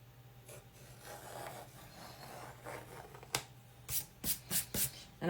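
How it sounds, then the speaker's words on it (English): Sandpaper rasps across a painted wood surface in faint, short strokes, then a quicker series of sharper scrubbing passes near the end, quiet and close with no talking. "when you sand, you get powder"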